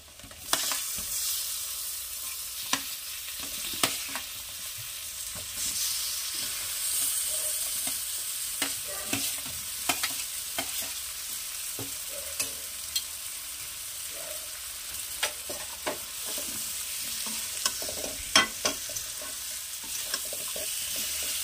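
Vegetables fry in a pan with a steady soft sizzle, punctuated by irregular clicks and scrapes of a utensil stirring them, heard close and without talk.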